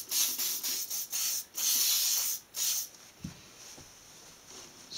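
Short bursts of spray paint hissing onto a 15mm Middle Eastern model building, several separate puffs of varying length, close and fairly soft, followed by quieter rubbing and faint clicks.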